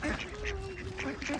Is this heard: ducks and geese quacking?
yes